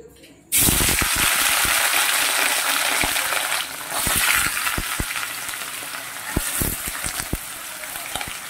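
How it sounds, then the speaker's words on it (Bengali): Paneer pieces sizzle steadily in hot white oil in a kadai, a loud continuous frying hiss after the pieces go in, with occasional clinks and pops of a spatula stirring. "এবার পনিরগুলো ভেজে নেব।"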